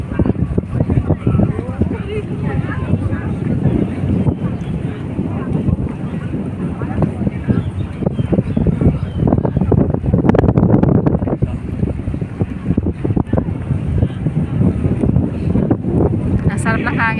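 Strong sea wind buffets the microphone at a pier in a continuous roar, with water and boat rumble beneath and a voice talking over it.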